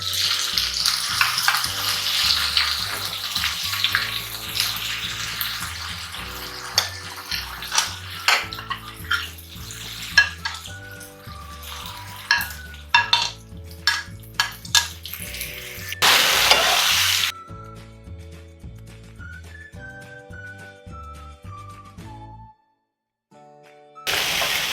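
Potatoes fry in a pan for a fasting-style peanut and potato khichdi while being stirred. There is a steady sizzle broken by sharp metal scrapes and clinks from the spoon, with quiet background music and no talking.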